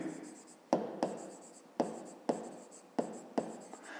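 Pen on paper during a 5th-grade maths lesson: a series of quick scratchy strokes, about seven, each a soft tap and then a brief scrape, close and faint in an otherwise quiet room.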